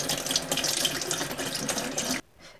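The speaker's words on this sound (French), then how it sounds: "On les passe bien sous l'eau." Running tap water rinses tomato seeds in a sink, a close, steady splashing gush that stops abruptly near the end, followed by a faint trailing trickle.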